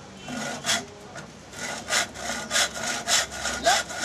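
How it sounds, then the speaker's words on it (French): Hand saw cutting through a hard wooden box in a luthier's workshop, a steady series of close rasping strokes with short pauses between them, loud and dry with no voices. "Là, la scie intervient."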